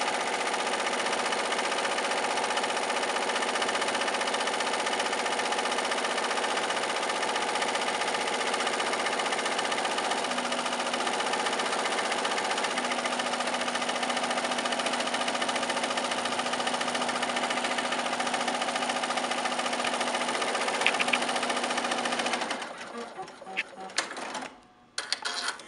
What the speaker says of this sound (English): with your happy embroidery machine, it makes short work of this applique, finishing this within a couple of minutes.